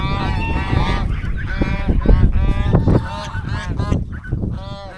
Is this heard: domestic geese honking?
yes